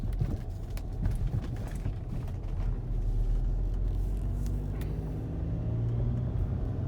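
A Volkswagen TDI diesel car with a DSG gearbox rolls slowly out of a parking lot in second gear, a low steady engine rumble with faint road and cabin noise, continuous and close.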